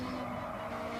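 Racing-game car sliding loose into oversteer, driven with a Thrustmaster T80 Ferrari 488 GTB Edition wheel: a steady, loud engine drone with a tire skid running under it for the whole short burst.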